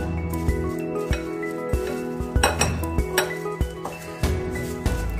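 Green chillies being mixed with black salt in a bowl for an oil-free pickle: steady clinks and scrapes of a spoon against the dish, close and fairly loud, with no talking.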